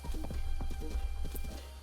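Horse hooves clip-clopping in Zelda: Breath of the Wild, a quick steady trot of hoofbeats close by over a low rumble, brief and without talk.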